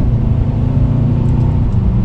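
A 2020 Mercedes-Benz CLA 250 engine hums and rises steadily while accelerating out of a turn, with a low, continuous rumble, up close and loud, no voices.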